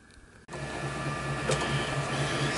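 A metal lathe runs in a workshop while turning half-inch brass for a model steam engine boiler fitting. It starts abruptly after a brief quiet moment and then holds a steady, close mechanical hum with a faint whine.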